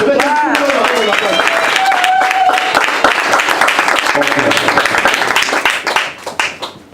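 Congregation at a church service applauding and cheering the seven, a dense sustained crowd clapping with voices calling out over it, fading toward the end.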